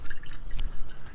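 Water runs briefly over freshly picked oyster mushrooms, giving a soft, close splashing and dribbling rinse with no voices.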